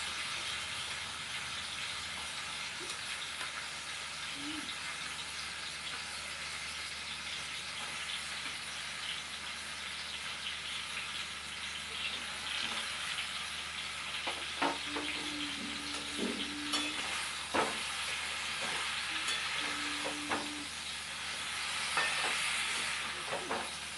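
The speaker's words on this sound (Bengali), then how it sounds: "এবারে চালটাগুলো দিয়ে একটু নাড়াচাড়া করব।" Elephant apple (chalta) pieces are stirred while frying in a pan for chalta pickle, giving a steady, fairly faint sizzling hiss with occasional light scrapes and taps of the spoon.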